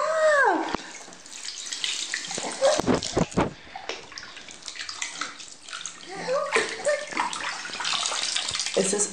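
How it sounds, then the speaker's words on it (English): Water gushes from a tap into a bathtub being filled for a bath, a rushing, splashing stream with brief gurgles and knocks, close by, with a voice and adult talk faintly mixed in. "Oh, ready for a bath, Flora?"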